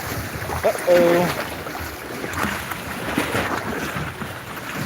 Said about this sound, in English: The wind has picked up. And we are seeing the effects of the water now.